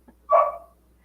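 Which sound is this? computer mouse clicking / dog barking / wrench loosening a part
dog barking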